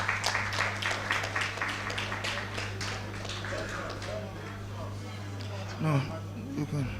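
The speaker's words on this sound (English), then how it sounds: "let's give her a round of applause." Audience applause for an engineer stepping out at an engineering conference: steady, dense clapping across the room for several seconds, with a low electrical hum beneath and a brief voice near the end.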